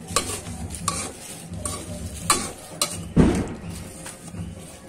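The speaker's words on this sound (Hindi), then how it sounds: "ये खोवा डाल दिए हैं और इसको अच्छी तरह से मिक्स कर देंगे।" Khoya stirred into semolina roasting in a pan for gujiya, a close, steady gritty sizzle broken by rhythmic scraping strokes of a spoon against the pan, with no talk.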